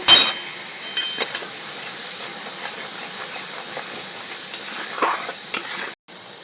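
Fish masala with milk is stirred and sautéed in a pan for a bata fish curry, a loud continuous hissing sizzle with scattered clicks of the spatula before it cuts off near the end.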